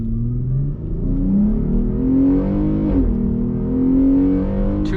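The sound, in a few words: Jeep Grand Cherokee accelerating full throttle in sport mode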